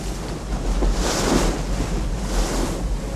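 Sea waves and gusting wind aboard an 18th-century sailing ship in bad weather, a steady broadband wash with swells rising around the middle and again near the end, loud and continuous with no voices.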